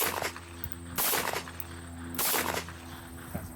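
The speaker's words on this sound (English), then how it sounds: "I'm going to try a couple shots just to make sure it works." Two sharp gunshots from a Taurus 992 revolver firing .22 Magnum CCI Maxi-Mag rounds, roughly a second apart, loud and close with short ringing decays over a low steady hum.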